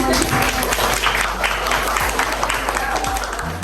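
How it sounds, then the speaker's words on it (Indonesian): Classroom applause from students, a steady dense wash of many hands clapping that fills the room at close range throughout, with some voices mixed in underneath. "Oke, tepuk tangan dulu."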